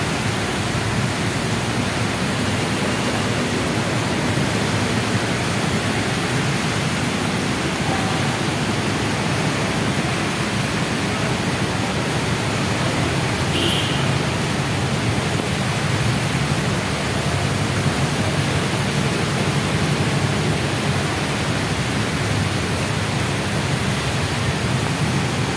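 Heavy, steady downpour of sudden rain on Quezon Avenue in Quezon City, a dense continuous hiss that stays loud and even throughout, with no voices.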